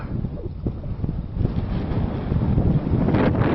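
Strong wind blows across open ice, a constant close roar buffeting the microphone that swells slightly toward the end, with no speech.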